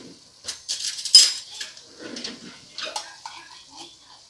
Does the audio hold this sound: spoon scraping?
yes